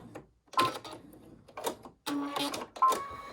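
A sewing machine runs a back stitch in short stop-start bursts, several quick mechanical whirs with gaps of near silence between them, close and fairly quiet.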